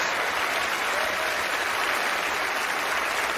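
A theatre audience gives a magician sustained, even applause, a dense wash of clapping from many hands heard alone with no pause.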